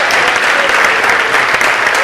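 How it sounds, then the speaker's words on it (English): Loud, sustained audience applause for contestants at a public speaking contest, dense clapping from a full room that holds steady throughout. "Another round of applause for our amazing contestants."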